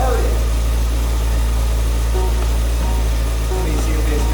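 A motorcycle engine idles steadily at close range just after starting, a loud, constant low rumble with no change in pace throughout.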